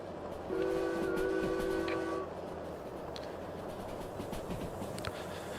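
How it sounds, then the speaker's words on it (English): A train in the Derail Valley video game passes with a loud two-tone horn blast lasting under two seconds, then fades into a low rumble and faint rail clatter with no voices. "Hey, look, there's a train."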